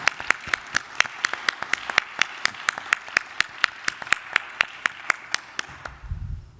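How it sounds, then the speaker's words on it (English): A single pair of hands claps sharply and evenly, about twenty-five crisp close claps at a steady rhythm, during a charity gala; a low rumble of movement or murmur rises at the very end. "Please give them a big round of applause."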